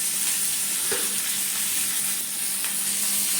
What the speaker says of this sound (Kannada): ಹೆಂಚಿನಲ್ಲಿ ಮೆಣಸಿನ್ಕಾಯಿ, ಉಳ್ಳಾಗಡ್ಡೆ, ಟೊಮೊಟೊ, ಹುಣಸೆಹಣ್ಣು ಹಾಕಿ ಸ್ವಲ್ಪ ಆಯಿಲ್ ಹಾಕಿ ಬೇಯಿಸ್ಬೇಕು